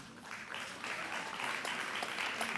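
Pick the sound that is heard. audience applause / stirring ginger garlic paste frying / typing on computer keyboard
audience applause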